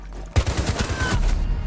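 Bursts of rapid automatic gunfire in a first-person shooter video game, a loud rattling volley of shots following a sharp initial blast.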